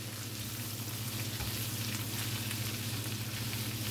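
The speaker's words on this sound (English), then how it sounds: "And then we just stir that all up." A pot of seasoned soup ingredients is stirred over steady heat, giving a continuous faint sizzle and bubbling with low scraping underneath. No voices are heard.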